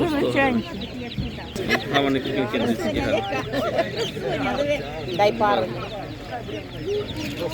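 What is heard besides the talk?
chicks at a village animal market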